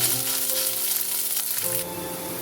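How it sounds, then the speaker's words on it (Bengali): Ginger, garlic, green chilli, pepper and cumin paste hitting fried onions in a pan for Bombay duck curry, a loud hissing sizzle with a faint tonal hum under it, easing slightly near the end. "পেঁয়াজটা ভাজা হয়ে গেলে দিয়ে দিচ্ছি একটা মশলার পেস্ট"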